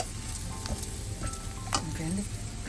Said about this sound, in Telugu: దీన్ని జస్ట్ కొంచెం ఫ్రై చేపిస్తానండి